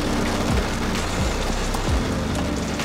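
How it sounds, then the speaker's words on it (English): Steady broadband hiss of rain falling on a surface, with a low engine-like tone sweeping past a few times underneath. "it's raining"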